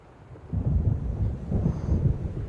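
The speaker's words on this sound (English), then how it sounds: "It seems there's a storm coming." Thunder rolls in low and steady with wind noise as a storm approaches in the video game Alan Wake, a deep rumbling that swells twice across the moment without voices.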